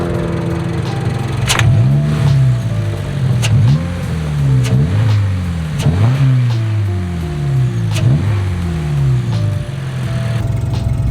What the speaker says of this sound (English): That's how the car sounds with the OEM intake.